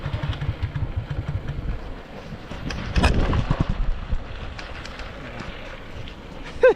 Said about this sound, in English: Right now the bike is on neutral point.